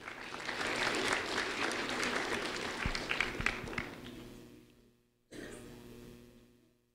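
An audience at an award ceremony gives a recipient a round of applause that is steady at first and then fades. A few claps and a cough stand out, and a short burst of noise follows a brief gap.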